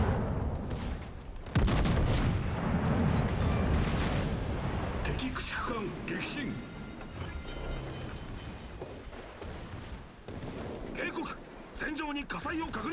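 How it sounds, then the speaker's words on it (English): Warship secondary guns firing in a naval combat video game, heard as repeated booming shots over a continuous roar of game noise, with someone talking over the top. "So if you notice, my secondaries are really going off right now."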